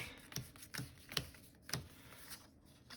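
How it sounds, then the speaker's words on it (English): Marvel Battleworld game cards being shuffled by hand: a few quick, soft papery bursts at a steady pace, faint and close, with no voices. "So I'm just going to shuffle them here really quick."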